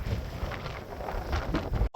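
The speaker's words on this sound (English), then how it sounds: "The winds are still going strong, and we keep turning side to side with the gusts" Steady rushing wind buffets the microphone in gusts on a large multi-hulled boat, with low rumbling and flapping throughout and a brief clunk near the end.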